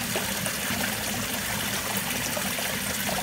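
Fresh spring water seeps up from the ground along a desert canyon river, making a steady, soft trickle and gurgle that stays close and continuous, with no voices.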